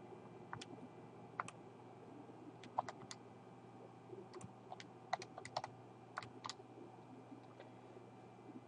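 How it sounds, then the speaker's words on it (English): Numbers are keyed into a calculator in a quiet room, a faint scattered series of short plastic button clicks coming in small bursts and irregular taps over a low steady hum. "So I type this in my calculator."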